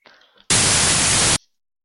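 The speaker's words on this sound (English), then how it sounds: "Kind of annoying sound. I mean, it's static." Harsh static plays back from a WAV file generated in C# with BinaryWriter. A sudden, loud, even hiss cuts in, lasts just under a second and stops abruptly, after faint murmuring noise before it.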